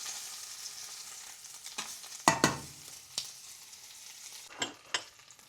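Chicken pieces fry in a pan with a steady soft sizzle, broken by a few sharper crackles and clinks as the pieces are stirred and turned, with no talking.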